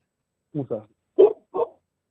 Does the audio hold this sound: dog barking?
yes